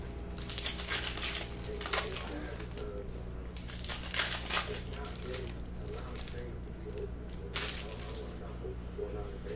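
Cellophane wrapper on a single pack of 2017-18 Panini Prizm basketball cards crinkles and tears in steady, close bursts over a low background hum, with a few louder rips near the middle and end.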